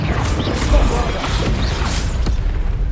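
Bombarda blasting spell cast in the Hogwarts Legacy video game, a burst of crashing, whooshing magical impact effects layered over busy game noise for about three seconds.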